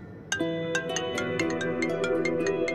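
A phone ringtone plays a repeating electronic melody of bright, evenly spaced tones, steady and fairly close, with no talking over it.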